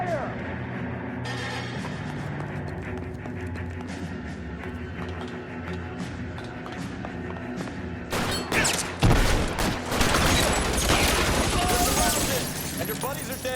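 Dense covering gunfire erupts in the L.A. Noire video game, a loud burst of rapid overlapping shots breaking out over tense in-game music and dialogue after a quieter stretch.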